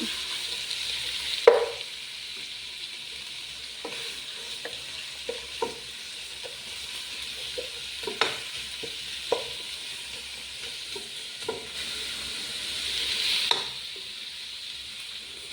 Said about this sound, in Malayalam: നമ്മൾ സവാള നല്ലപോലെ വാടി കിട്ടണം